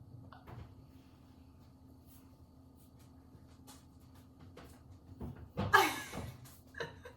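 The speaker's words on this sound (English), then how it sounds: "Watch Lily go out the door." A door opens or closes as a pet heads outside, a short sharp knock-and-rattle burst over quiet room hum, followed by a few softer bumps.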